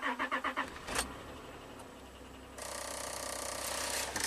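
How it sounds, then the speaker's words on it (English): A Honda Accord V6 with a misfire starts cold: the starter cranks in several rapid pulses, a clunk, then after a pause the engine catches and settles into a steady, even idle close by. "Start up the car."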